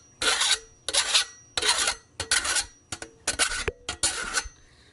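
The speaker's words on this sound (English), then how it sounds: "This is a triangular file." A triangular file rasps along an edge in about eight short, loud strokes with brief pauses between them, close by and with no talk.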